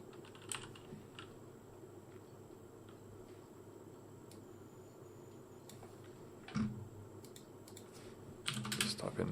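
Soft keyboard typing runs faintly through a steady low room hum, with a few isolated clicks and a slightly louder burst of keystrokes toward the end.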